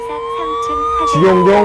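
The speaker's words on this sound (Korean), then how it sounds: "관리자 휴대폰에 지금 사이렌과 그다음에 음성 메시지로 화재라 119에 신고해라 하는 그런 음성 메시지가 나오고 있습니다" A Miri24 fire detection system's alarm siren sounds from a manager's mobile phone during a smoke detector test: loud, close electronic wailing tones that shift in pitch near the end.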